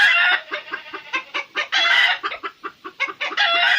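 Hens in a rabbit-hutch setting cluck and cackle loudly and close by in rapid, agitated bursts that run on almost without pause. Their calls overlap into an excited squawking chorus.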